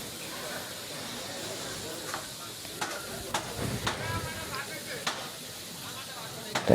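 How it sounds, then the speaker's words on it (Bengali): Steady hissing sizzle of crab frying in oil with spices, with occasional scraping clicks of a spatula and background voices. "কাঁকড়াটার একেবারে ভালো ভালো করে একেবারে পোড়া পোড়া করে তেলের উপর ভাজছে"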